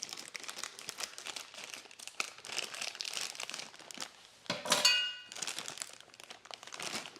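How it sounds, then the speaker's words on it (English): A plastic package of dried organic garbanzo beans being cut open and handled, with close crinkling and rustling throughout and a sharper crunchy burst in the middle, no talking. "I'm going to just cut open the package."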